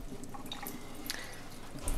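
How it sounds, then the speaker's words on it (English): Water trickles and drips steadily as a Miltoniopsis orchid pot suffering from orange rot is slowly flushed, faint and continuous with scattered small splashes. "Slowly but surely putting in some water so the dust get out."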